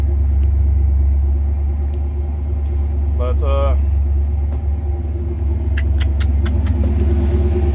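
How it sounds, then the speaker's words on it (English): A deep, steady exhaust rumble from a 1988 Ford F-150 pickup with a 5.0 V8 idling high and running poorly drones throughout, close by, with a brief voice and a few light ticks over it. "that's what the exhaust sounds like."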